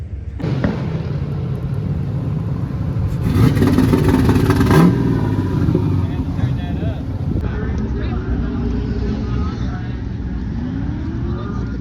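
Car with a stock 4.8 LS engine drones steadily and swells into a louder rev partway through, with voices murmuring nearby.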